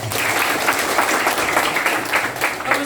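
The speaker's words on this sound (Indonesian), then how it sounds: "Tepuk tangan untuk kita semua." An audience bursts into sustained applause at a business seminar, a dense, even wash of many hands clapping that holds steady throughout, fairly loud and with no voice over it.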